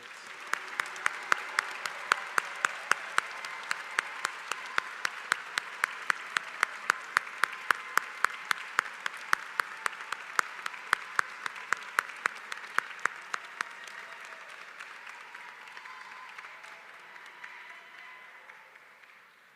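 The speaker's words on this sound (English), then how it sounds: "Big hand of applause for all of our bachelor's graduates." A commencement audience applauds bachelor's graduates at a university electrical and computer engineering ceremony, with sustained, dense clapping that holds steady for most of the stretch before thinning and fading toward the end.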